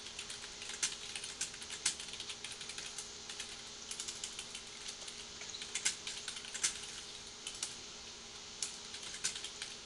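Someone types on a computer keyboard during a Super Metroid play session, a quiet, irregular patter of light key clicks with occasional firmer taps, close and faint, with no talk.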